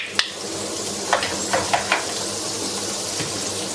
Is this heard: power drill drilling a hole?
no